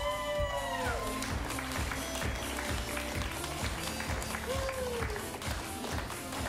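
An audience at an improv comedy show claps and cheers as the performers are brought out, a dense burst of applause with rhythmic clapping and some whoops throughout.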